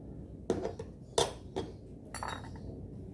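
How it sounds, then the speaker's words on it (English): A spoon clinks against a small bowl while honey dressing for a fruit salad is mixed: four or five distinct, close, bright taps at uneven intervals, with quiet gaps between them. "I'm going to take my small bowl and my spoon"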